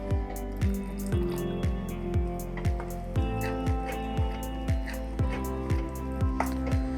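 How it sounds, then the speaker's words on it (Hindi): Water poured into semolina idli batter and stirred, giving a steady run of wet, squishy mixing strokes in a regular rhythm, close and fairly loud, with no talking. "तो मैं इसमें थोड़ा सा और पानी डालूंगी।"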